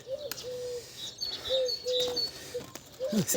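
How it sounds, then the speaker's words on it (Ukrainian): Soft low coos repeat several times amid chirping birds and outdoor ambience, fairly close. "Парочка голубів, парочка голубів."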